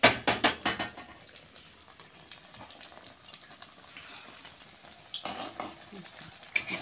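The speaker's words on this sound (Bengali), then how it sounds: "এবার আমি চপটা ভেজে নেব।" A potato chop deep-frying in oil, heard after a row of sharp utensil knocks, then a low, bubbling sizzle with occasional clinks and crackles, fairly quiet and without speech.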